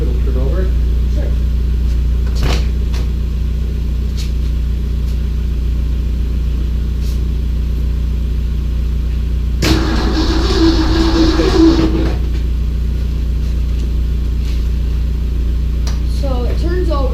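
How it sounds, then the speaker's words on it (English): A 1968 Shelby Mustang engine cranking over for about two seconds midway, a rough churning burst standing out from a steady low background hum, with people talking around it. "So it turns over, which is the main good thing."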